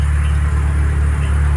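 A Volkswagen Kombi engine idles steadily after being run again following repairs, a loud, close, even low rumble with a constant throb and no voices.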